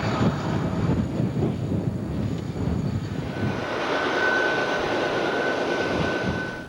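Intermodal freight train 20A running between St. Louis and Harrisburg passes at Gallitzin, Pennsylvania, heard as a loud, steady rumbling roar with a thin whine running through it, with no talk.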